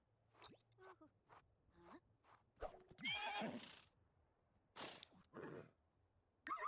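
A horse in The Sims 4 whinnies several times at close range, with soft hoof clops and small wet, squishy game sounds between the calls and no talking.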